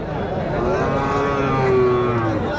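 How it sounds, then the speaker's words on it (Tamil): Native cows at a busy cattle market, with long low lowing calls rising over a dense crowd murmur and general bustle, the animals fairly close and steady throughout. "எல்லாம் பசுமாடு தாங்க நாட்டு பசுமாடு பார்த்தாவே தெரியும்"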